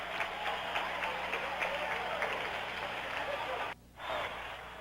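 A steady, dense roar from a crowd of 15,450 at a 1974 ACC Championship basketball game between Maryland and NC State in Greensboro Coliseum, briefly cutting out near the end before resuming.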